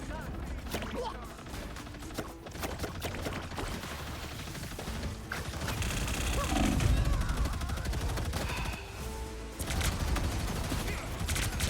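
The Punisher's gunfire in the Marvel Rivals hero shooter, dense rapid bursts of shots amid busy match noise, sustained and loud across the clip with a heavy thump midway.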